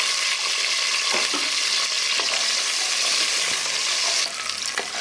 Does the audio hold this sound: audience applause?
no